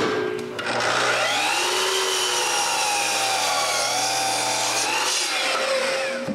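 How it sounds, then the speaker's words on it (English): A power saw whines steadily through a 2x4 board at a 52-degree angle for several seconds, loud and close, its pitch shifting slightly as the cut progresses, then stopping. "I cut the 2x4 at 52 degrees."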